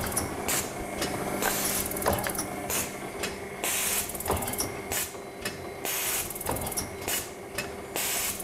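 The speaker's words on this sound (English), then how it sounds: "I'm gonna go ahead and continue to push the machine speed up" A Bagel Systems Digifav B2 digital finishing machine runs on white stock, giving a steady mechanical whirr with rapid, regular ratcheting clicks and a faint hiss at a close, even level.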